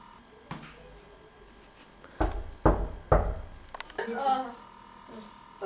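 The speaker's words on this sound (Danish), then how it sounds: "Jeg hørte en, der bankede." Several knocks on a door in a dim domestic scene, a few loud thuds spaced about half a second apart, followed by rustling movement.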